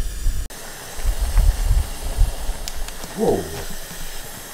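Spaghetti noodles boiling in a pot, a steady close hiss of rolling water and steam with bubbling bursts, a brief exclamation from a voice partway through.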